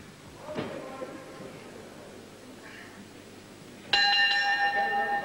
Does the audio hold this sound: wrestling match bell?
yes